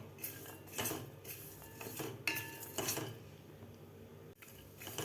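Coconut, sesame seeds and peanuts stirred in a hot kadhai, with a metal spoon clinking and scraping against the pan in close, irregular strokes.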